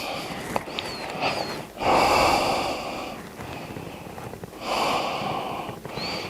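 Breathing during a hatha yoga flow: audible sniffing inhales and forceful exhales come in slow cycles, close to the microphone and without speech.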